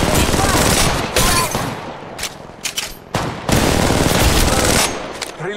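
Heavy gunfire from the mobile shooter Apex Legends Mobile rattles in loud, rapid automatic bursts with short breaks between them, and a voice speaks under the shooting.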